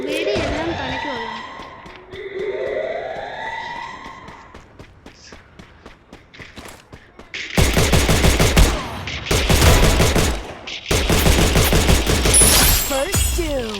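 Rapid bursts of automatic gunfire from the Free Fire Max battle-royale game, loud sustained volleys in three stretches after an earlier quieter section with voice and game sounds.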